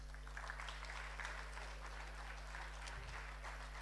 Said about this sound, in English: A big round of applause, dear friends.